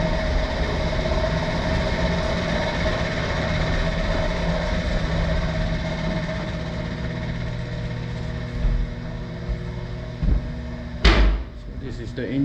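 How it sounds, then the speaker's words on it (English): Heavy machinery hums and drones continuously in a ship's engine room near the port and starboard main engines, steady and loud, with metallic clanks and a sharp door-like bang toward the end. "So this is the engine room."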